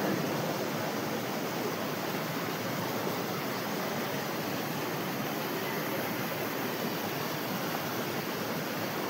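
Floodwater surges along a rain-swollen river in monsoon rain, a steady, dense broadband roar that holds even and unbroken throughout, with no voices.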